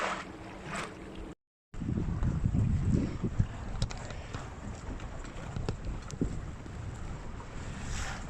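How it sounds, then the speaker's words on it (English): Wind gusts across a Nordica 16 sailboat on Mississippi Lake at Carleton Place, Ontario, a loud rushing buffet against the microphone with splashing water and creaking, briefly cut out, then blustering steadily on. "we just had a nice little gust of wind there"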